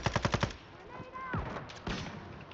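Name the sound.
gunfire in the video game Call of Duty Warzone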